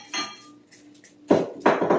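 A spatula scrapes the sides of a bowl of carrot cake batter, with a soft rustle early on and then two louder, close scraping strokes near the end.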